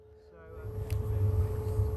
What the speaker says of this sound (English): this noise that you may be able to hear, this is classed as the engine on. It's just like a sort of mild whir, really.